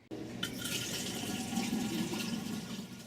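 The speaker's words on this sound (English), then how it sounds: "Cal State Northridge students can now refill water bottles using vending machines on campus." Water rushing steadily into a refillable bottle at a campus water vending refill machine, a continuous close filling gush with a brief click near the start.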